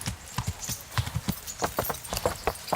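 A horse's hooves clip-clop at a steady walking pace in the video game Kingdom Come: Deliverance. The clear, close hoofbeats fall in an uneven rhythm over a soft outdoor background.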